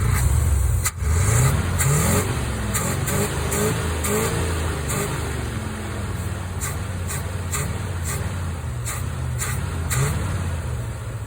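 A car engine with a carburetor accelerator pump revs loudly and steadily as the throttle is opened, with a sharp pop near the start, close up and alone for about eleven seconds.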